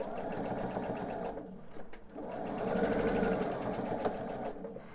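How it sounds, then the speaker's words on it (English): A sewing machine stitches a quarter-inch seam while piecing a pillowcase, a fast steady mechanical whir that briefly pauses and resumes, close and alone. "we're going to sew the 1/4 inch seam"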